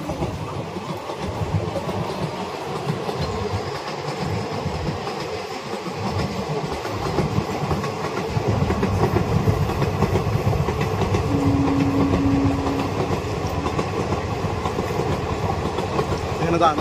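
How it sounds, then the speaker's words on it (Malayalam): A train runs past a big lone tree in a Kerala village on the Thrissur to Ernakulam line, a steady rolling rumble with clattering wheels that swells louder around the middle and stays close to the end. "ഇത് നമ്മുടെ മാവിൻ്റെ അടുത്ത് കൂടെ ഒരു ട്രെയിൻ പോയിക്കൊണ്ടിരിക്കുകയാണ്."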